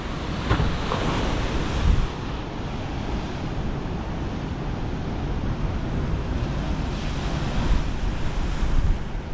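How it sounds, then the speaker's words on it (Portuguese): A large ocean wave crashes on the rocky shore at Arraial do Cabo at high tide, a loud roaring surge of surf and spray with wind buffeting the microphone, rising again near the end. "Olha de trás agora o porradão dessa onda que vai dar aqui"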